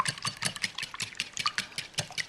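Eggs are whisked in a bowl with quick, steady, rhythmic strokes, a brisk run of light clicks and scrapes repeating several times a second, close and fairly quiet.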